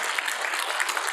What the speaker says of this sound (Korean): 여러분 우리 하나님께 영광의 박수 한번 하죠.